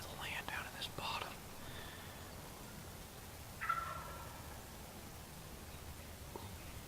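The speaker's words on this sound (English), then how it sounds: "every once in a while he's still gobbling" A wild turkey gobbles in the distance during a bow hunt in a wooded bottom, giving a few brief calls over steady background hiss and faint rustling.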